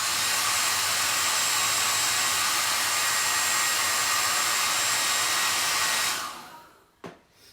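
Hair dryer blowing steadily at close range, a loud continuous high whine and rush of air for about six seconds, then switched off and winding down, followed by a brief knock.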